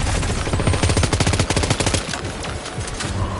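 Rapid automatic gunfire rattles in a fast, loud burst within the Death Stranding 2 video game, then thins into scattered sharper shots before trailing off.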